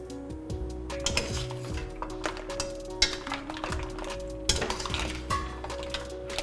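A utensil turns mussels Provençal in a metal cooking pot that is not yet simmering, giving a run of clinks, scrapes and light clanks against the pot, close and irregular, with no voices.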